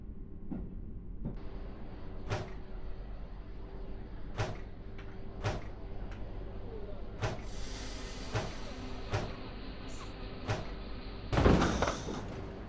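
An IC train couples to another train at Deventer station, heard from inside as a series of sharp metallic knocks and clunks over a steady hiss and low hum, ending in a louder jolt near the finish.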